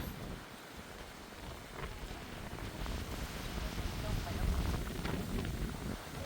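Steady rain falls in the countryside, a constant soft hiss and patter that swells slightly, with some voices talking beneath it.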